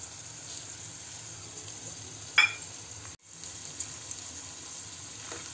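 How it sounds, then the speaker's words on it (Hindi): Chivda with sesame seeds, turmeric and roasted dalia being stirred in a hot pan gives a faint, steady sizzle, broken by a few brief scraping clicks of the spoon. "इसे अच्छी तरह से मिक्स कर लेंगे।"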